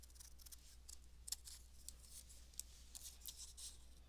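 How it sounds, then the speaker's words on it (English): Scissors cut paper along pencil lines for a polka dot flower sculpture craft, a series of quiet, close, crisp snips repeating in an uneven rhythm over a faint steady hum. "you're going to just cut right on those pencil lines that you made."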